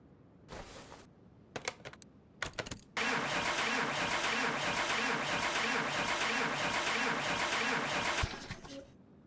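A car engine cranks repeatedly without catching in Car Mechanic Simulator, several short starter bursts followed by a long, steady cranking whir that runs for about five seconds before cutting off.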